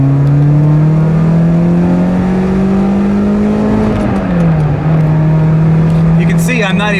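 A car engine revs hard on the road after a transmission replacement, climbing in pitch for several seconds before easing off, loud and continuous with a faint voice near the end.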